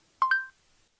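Two short phone dialing tones sound as Google Assistant places a call, clear bright beeps in quick succession, then quiet.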